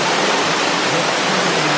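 Broad, steady roar of a waterfall inside a cave in the Dominican Republic, a continuous dense rush of falling water that stays loud and even throughout with no voices.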